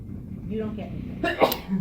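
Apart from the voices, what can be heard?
sneeze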